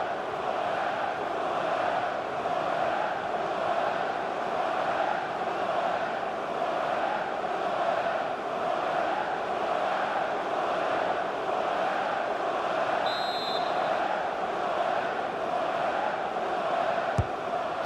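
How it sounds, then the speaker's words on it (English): A stadium crowd in the FIFA 19 video game keeps up a steady, dense roar throughout a soccer match, with a brief faint electronic tone partway through and a small click near the end. "the crowd indulging in a Mexican wave"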